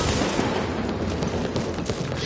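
A submachine gun fires in The Division video game, a loud, rapid, unbroken burst of automatic shots running the whole short stretch, with no talk.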